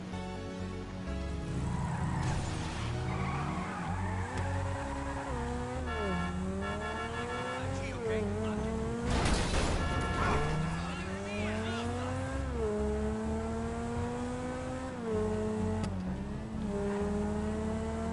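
A Turismo supercar in GTA Online revs hard through repeated upshifts, engine pitch climbing and dropping in sweeping arcs, with a brief skid burst midway and a voice speaking over the engine.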